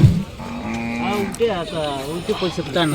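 Bulls at the Avani parasa cattle market let out several deep, wavering moos close by, with people talking around them.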